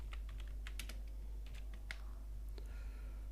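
Quick, uneven clatter of fingers typing on a computer keyboard while entering a page title in a website's back end, faint and close over a low steady hum.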